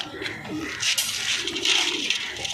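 Pigeons, including black-speckled birds kept for sale, coo softly and repeatedly close by, their low throaty calls overlapping amid some faint background rustle.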